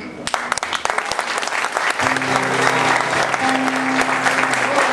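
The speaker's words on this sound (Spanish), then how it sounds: "creo que el aplauso hay que repetir" A crowd applauds at a live event, with dense clapping that starts scattered and builds into a sustained loud ovation, while a steady tone hums beneath from about the midpoint.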